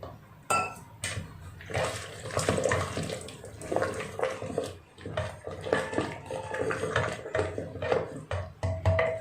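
Water is poured into a pot of dal in a home kitchen, with splashing and gurgling in irregular bursts that come close and loud. Light clinks of utensils mix in, with no talking.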